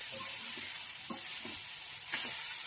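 Poha is stirred slowly in a pan over a steady low frying hiss, with a handful of soft, spaced scrapes and taps from the spoon close by and no speech.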